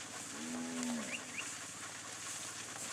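A single low moo from a steer, fairly close, lasting under a second over a steady outdoor hiss, during a cattle drive through a gate.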